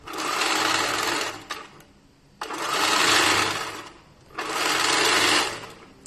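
A Pro-Stitcher computerized quilting machine runs in three bursts of fast, buzzing stitching, each lasting about a second and a half, with short pauses between them. The sound is close and fairly loud, and no one speaks.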